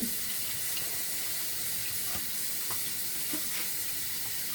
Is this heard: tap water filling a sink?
yes